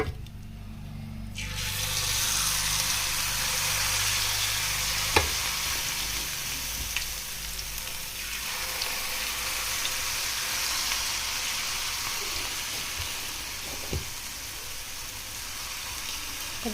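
Onion pakodi deep-fry in hot oil, producing a long, even bubbling sizzle with a few sharp clinks of a utensil, steady and close, with no speech.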